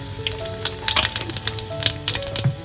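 Cumin seeds sizzle in hot oil with mustard seeds for a tempering in a kadhai. The frying is loud and close, with crisp irregular pops and crackles over a steady hiss.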